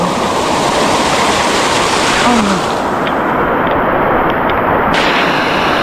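Heavy monsoon waterfall on the rocky trail up to Visapur fort, a loud, steady roar of rushing water close by that fills the whole span without pause.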